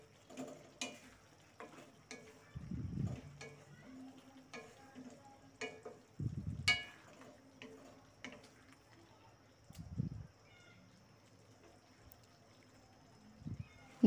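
Vegetables with a tablespoon of soy sauce are stirred in a pan for a restaurant-style Chinese vegetable dish, giving a few separate scraping bursts over a faint sizzle, with scattered light clinks between them.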